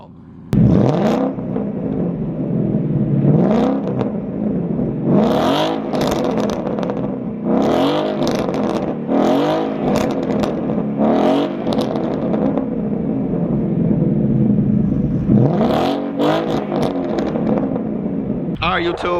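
A 2015 Ford Mustang GT engine is blipped repeatedly up close, each rev surging and falling back in a loud rhythmic series over a rumbling idle. Voices can be heard between the revs.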